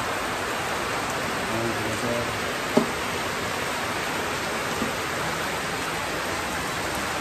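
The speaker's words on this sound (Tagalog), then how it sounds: "Ulan na ulan." Dense, steady rain hisses all around, with a few brief voices and a small knock partway through.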